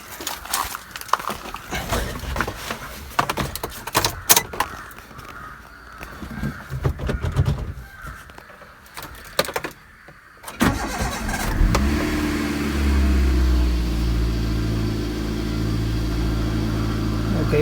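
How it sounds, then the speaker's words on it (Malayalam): A Maruti car that had not been started for two or three days cranks at about ten seconds, then catches and settles into a steady, loud idle. Crows caw and other noises come before the start. "വണ്ടി ഒന്ന് സ്റ്റാർട്ട് ചെയ്തിട്ട്"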